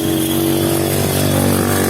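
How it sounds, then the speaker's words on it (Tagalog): A motorcycle on a road near San Rafael, Subic, Zambales runs steadily close by with a continuous mid-pitched engine drone, loud and unbroken throughout with no talk over it. "May motor sa likod."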